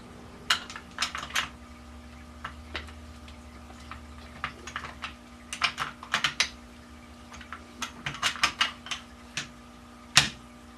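Parts of an SKS rifle being handled and clicked into place, a series of sharp, close mechanical clicks and taps arriving in irregular bursts over a quiet background hum.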